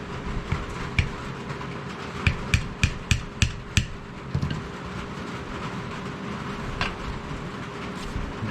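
Hammer tapping pins down into a beaver skinner knife handle, a series of sharp metallic taps, several in quick succession then a few scattered ones, close and clear over a low hum.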